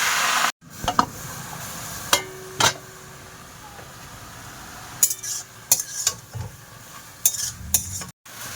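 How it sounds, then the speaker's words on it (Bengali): Leafy greens cook with a little water in a hot wok, a low sizzle running under intermittent spatula scrapes and metallic clinks against the pan. "খালি কড়ায় শাক চাপিয়ে দেবো সামান্য জল দিয়ে দেবো"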